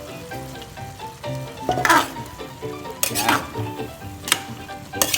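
Carrots and chayote sautéing in a pan for a Baguio vegetable dish, a steady close sizzle with utensil clinks and scraping stirs, several sharper bursts as ingredients hit the pan, with brief talk over it.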